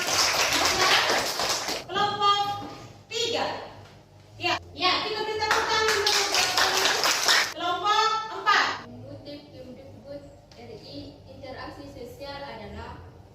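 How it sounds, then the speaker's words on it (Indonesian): Classroom of schoolchildren clapping for classmates during a lesson, loud rapid bursts of hand claps that repeat for several seconds, then trail off as children's chatter and a teacher's voice take over. "Ya, kita beri tepuk tangan untuk"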